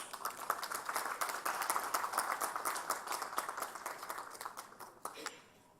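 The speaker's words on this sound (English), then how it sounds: "A round of applause, please." Applause from an engineering congress audience in a Chennai hall, many hands clapping in a dense, steady patter that fades out near the end, moderately distant.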